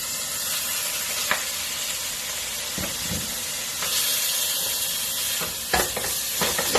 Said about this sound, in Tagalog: Lutuin natin ang chicken. So, ilagay natin ang chicken.